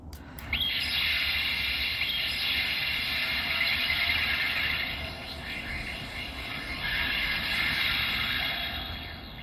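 Guts Eagle toy from Ultraman Dyna firing its electromagnetic net effect, with the three craft separated: a steady electronic warbling tone, continuous and fairly loud, dipping briefly midway before swelling again, with no talk.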